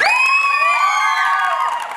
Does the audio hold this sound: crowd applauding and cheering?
yes